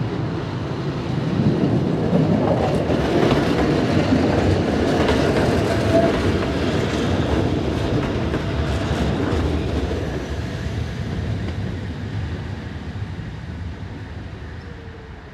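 Swiss narrow gauge train number 14 rolls past on its return from Liestal, a loud, sustained rumble with rhythmic wheel clatter that gradually fades toward the end.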